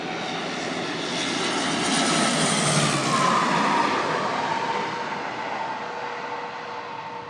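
Airbus Super Guppy, a huge bulbous cargo airplane, roars with a steady broadband engine drone that swells slightly mid-clip and then eases, continuous and fairly loud with no voices.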